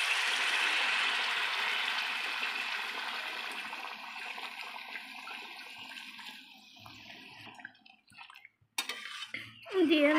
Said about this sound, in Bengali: গরম জলটা করে রেখেছিল, দিয়ে দিচ্ছে গরম জলটা।